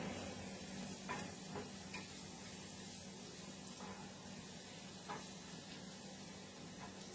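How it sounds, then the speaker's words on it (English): Onions soften in a pan with a soft, steady sizzle and occasional stirring scrapes, quiet and continuous with no talk. "I'm just getting my onions a little soft here"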